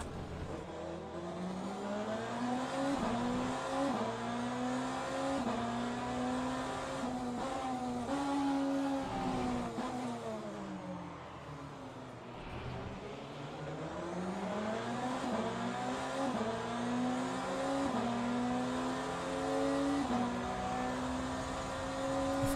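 GTE race cars roar around the Bahrain circuit in the video game Le Mans Ultimate, engines climbing and dropping through gear changes with a steady whine, plus a brief lull midway before revving hard again; no voices.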